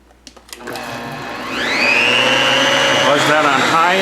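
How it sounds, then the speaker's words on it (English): Blender running on high speed mixing popover batter with melted butter on top, starting after a few clicks and rising into a loud, steady whirring drone that holds to the end. "buzz this for 30 seconds in your blender."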